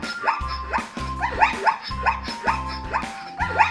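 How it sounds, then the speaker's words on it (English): A zebra's repeated high-pitched yipping, barking calls in a rhythmic pattern, several per second, fairly close and clear over a low thumping backing. "yes, that is the sound the zebra makes."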